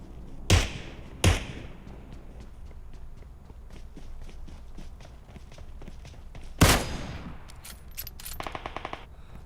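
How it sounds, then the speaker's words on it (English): Video game firefight with automatic weapons: a few sharp, loud gunshot blasts stand out against a background of quieter rapid shots and footstep-like thuds, ending in a short burst of fast repeated fire, no speech. "So we got automatic fire up there, and that is bad"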